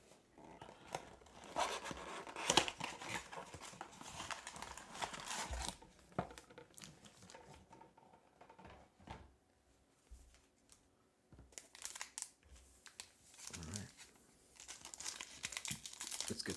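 A 2025 Panini Mosaic trading card pack wrapper is torn open and crumpled by hand, giving close, continuous crinkling and ripping foil sounds with small pauses, quiet and without talk.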